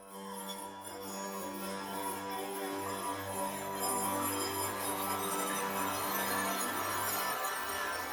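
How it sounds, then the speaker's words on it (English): Soundpaint EverWave sample patch of sliding glass on strings: a sustained, shimmering tonal texture with steady low drones and bright glassy overtones that swell gently, playing alone without a break. "this one's called Sliding Glass on Strings"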